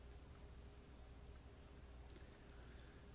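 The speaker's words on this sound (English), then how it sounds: "The only thing I can hear is the sound of the rain continuing to pour" Rain pours steadily in the video game Chaos;Head Noah, a faint, even hiss of falling water with a few brief drip-like ticks and no voices.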